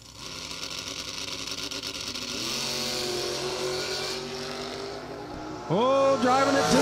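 Drag racing cars, a Mustang and a Vega, rumble and rev at the line with droning engine tones. One engine rises in pitch before a sharp, loud rev burst near the end.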